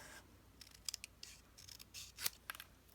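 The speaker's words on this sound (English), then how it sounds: "I'm also going to trim ever so slightly a little bit off" Scissors snip through card stock while trimming a window card banner, a quiet run of short, crisp cuts in an irregular rhythm, close up with no talking.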